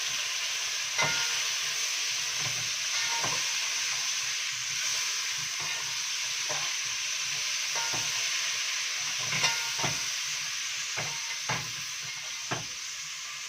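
Frozen tomato sauce sizzling and hissing in a hot pan for quick pasta, with a steady close frying hiss and scattered sharp pops and spatters across the span, with no voices.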